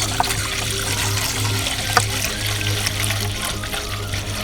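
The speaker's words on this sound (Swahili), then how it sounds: "Kwa frying pan yetu tutaweka maji, then tuwashe moto." Water pouring into a frying pan on a kitchen stove before boiling potatoes for chips, a steady close trickle and splash running throughout over a low hum, with one or two brief clinks.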